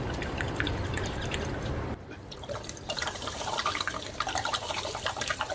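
Water glugs and splashes from a bottle, first in a steady gush, then after a brief dip a swirling, faster-draining pour once the bottle is spun, close and fairly loud, with no talking.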